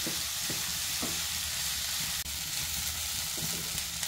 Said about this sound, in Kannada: ಇವಾಗ ಈರುಳ್ಳಿನ ಚೆನ್ನಾಗಿ ಫ್ರೈ ಮಾಡ್ಕೋಬೇಕು.